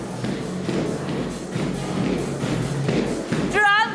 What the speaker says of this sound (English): So what we're listening to are the sounds of Fit Boots. It's a fitness class, and people are bouncing around.